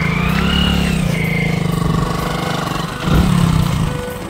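A motorcycle engine labours steadily as the bike struggles up the bank of the Jayanti river in Alipurduar, a continuous droning rev that holds for several seconds before surging louder near the end.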